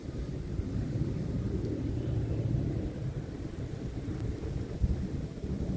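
Heavy snowstorm outside a house in Montreal, heard as a steady low wind rumble that holds evenly throughout with no voices.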